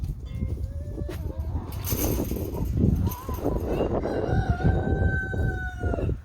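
Several chickens cluck and a rooster crows in an outdoor yard, a busy overlapping flock sound with steady background noise.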